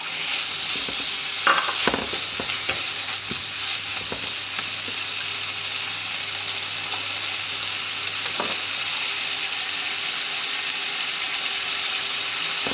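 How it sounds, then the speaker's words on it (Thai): Bacon stir-frying in a pan, with a loud, dense and continuous sizzle heard up close and alone, and a few clinks and scrapes of stirring early on. "จากนั้นนะคะก็จะใส่ตัวเบคอนลงไปผัดค่ะ"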